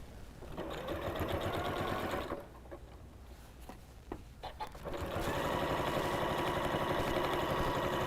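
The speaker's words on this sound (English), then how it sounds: "Bring my sewing machine in." A sewing machine stitches a quarter-inch seam on a scrappy quilted fabric potholder, running steadily and close, pausing briefly with a few small clicks, then resuming in a long even whir.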